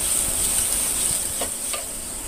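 Vegetables sizzling steadily in a hot pan for egg roll paratha, with carrots just added, giving a continuous close frying hiss with faint stirring clicks and no voices.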